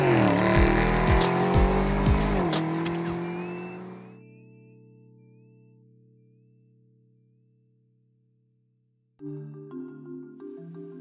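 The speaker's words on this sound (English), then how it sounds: "This is the all-new 2011 Mercedes-Benz SLS AMG." A 2011 Mercedes-Benz SLS AMG supercar drives close by, its engine loud and steady with a gear change, then fading away to near silence before another engine drone returns at the end.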